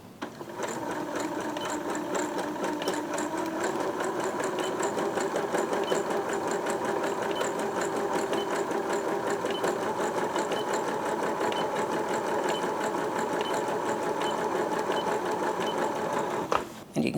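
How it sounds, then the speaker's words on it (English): A Janome sewing machine runs steadily at close range, stitching a zigzag pattern whose width is reduced while it sews, with a continuous whirring motor hum and fast mechanical needle chatter throughout. "as I sew I'm going to reduce the stitch width"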